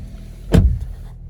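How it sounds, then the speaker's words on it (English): A Volkswagen Jetta door slams shut once, a single close, solid thud followed by a brief faint rattle in an otherwise quiet cabin. "Of course, we close the door."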